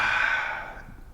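A long, audible exhale during a meditation session, a close and breathy rush of air that starts steady and fades out over about a second.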